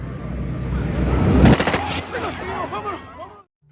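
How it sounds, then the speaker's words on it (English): Rapid burst of gunfire in a movie scene as police shoot a fleeing man, loud sharp cracks clustered near the middle over dramatic background sound and music. "the police shot him dead."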